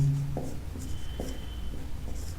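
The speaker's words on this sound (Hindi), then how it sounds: "हम लोग क्वेश्चन लिखते हैं" A pen scratches across paper in short strokes while a question is being written out, faint and close, with brief pauses between strokes and no voice over it.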